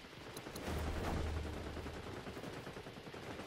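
Gunfire in the shooter video game XDefiant comes from outside, a rumbling burst of shots blended into dense game noise that stays faint and continuous without distinct separate cracks.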